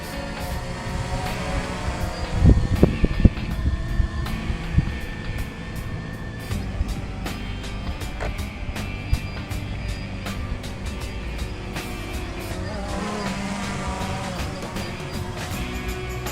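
A quadcopter drone's motors whine at high speed, turning hard with too much rudder, giving a continuous buzzing drone with shifting pitch and a louder burst early on, no talk.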